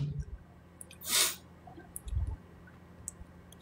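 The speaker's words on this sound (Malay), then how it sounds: "Tak sukalah bersin ni." A person with tonsillitis lets out a single sharp sneeze at close range, a short breathy burst over a quiet room with faint clicks and small rustles around it.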